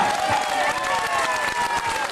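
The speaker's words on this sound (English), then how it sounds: "how about a big round of applause for this great country we live in" A crowd applauding at a Canada Day event in Toronto, continuous dense clapping with scattered cheers, fairly close and loud, with a voice faintly mixed in.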